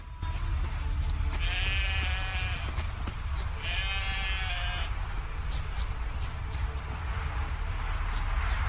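Two bleats from sheep in the video game The Witcher 3: Wild Hunt, each about a second long, over a steady background hum and scattered clicks.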